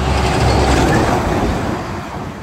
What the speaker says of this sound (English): I'm by a busy road too, so we'll hear lots of traffic once in a while